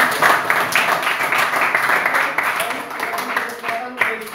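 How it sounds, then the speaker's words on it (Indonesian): A group claps in a dense, continuous round of applause, with some voices mixed in. "tepuk tangan dulu untuk Tessa."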